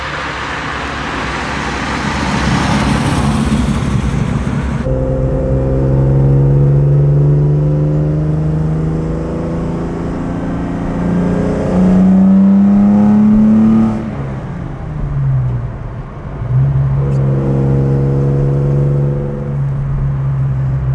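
A 1966 Jaguar E-Type 3.8 Coupé, a restored vintage racer, pulls hard up a mountain road, its engine climbing through the gears with rising, falling pitch sweeps and brief gearshift dips, loud and close throughout.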